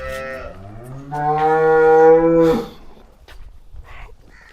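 A cow at a cattle sale moos loudly in one long, drawn-out call, close by, followed by quieter rustling and faint background noise.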